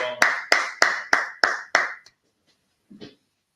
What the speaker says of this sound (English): Just clap your hand